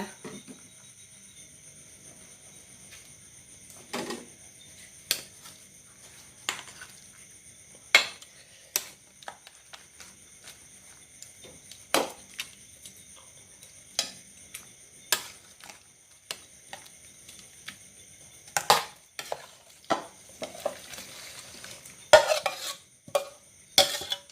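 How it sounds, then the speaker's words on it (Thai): A ladle scoops snakehead fish curry with sour bamboo shoots and pumpkin into a bowl: scattered sharp metal clinks and scrapes against the pot and bowl, with a quick cluster of knocks near the end and no talking. "เดี๋ยวเราไปตักใส่ถ้วยกันเลยแล้วกันนะคะ"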